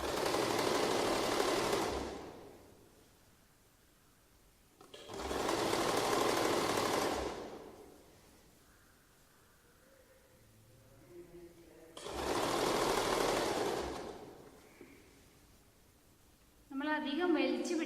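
Sewing machine stitching the neckline of a churidar lining, three loud, close bursts of steady motor whirring separated by quiet pauses with light fabric handling, and a brief voice at the end.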